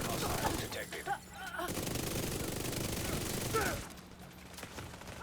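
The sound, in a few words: LMG machine gun fire in the video game The Division 2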